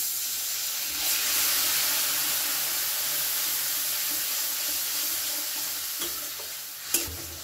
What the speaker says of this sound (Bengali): 1/2 চামচ মতো শুকনো লঙ্কার গুঁড়ো। ভালো করে এটা মশলাটা আমি কষিয়ে নেব।